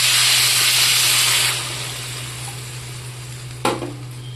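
A pan of fish curry broth with potatoes bubbles and hisses close by, loud at first and then settling into a softer simmer, with one brief clatter near the end.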